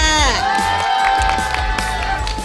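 A large crowd cheers and shouts loudly at the opening of a citizens' speak-out event against sexual violence in Suwon, with scattered claps and whoops rising over a steady roar of voices.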